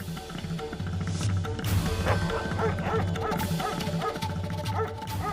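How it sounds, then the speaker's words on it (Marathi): A dog barks and yips repeatedly at close range in a TV drama scene, mixed with a dense musical soundtrack. "तुला ऐकू येणारा तो कुत्र्याचा आवाज हा संकेत होता"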